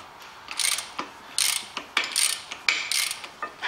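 Rapid ratchet clicking on bolts being loosened at the rear of a Renault Master van, in several close, loud bursts of quick ratcheting separated by short pauses.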